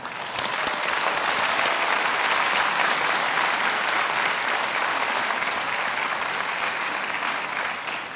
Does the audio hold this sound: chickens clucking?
no